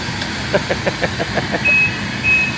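A truck backs up on a residential street, its engine idling under a run of rhythmic pulses, followed by two sustained high reversing-alarm beeps, fairly close and steady.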